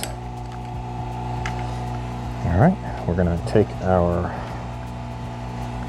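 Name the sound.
vacuum chamber degassing swimbait plastic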